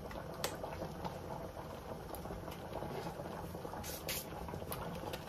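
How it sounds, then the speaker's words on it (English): Cooking cream simmers in a pan for shrimp Alfredo, giving a faint, continuous bubbling hiss with a few sharp ticks and pops scattered through it. "put the cooking cream inside."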